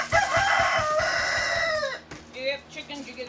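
Chickens on a livestock farm, with a rooster crowing one long, loud call followed by softer clucks nearby.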